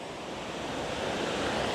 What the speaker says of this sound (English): this is the Mad River